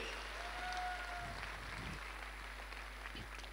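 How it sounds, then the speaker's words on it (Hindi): Indoor audience at a motivational business event in Panipat claps in a soft, continuous patter of applause, fairly distant and low in level, over a steady electrical hum. "मैं चाहूंगा जोरदार तालियां एक बार फ्रंट लाइन के मेरे सभी मेंटर्स के लिए।"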